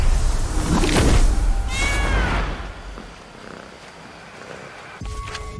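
Cat purring and meowing in the video game Blacktail, a close purr under a couple of short drawn-out meows, fading quieter before a faint thump near the end.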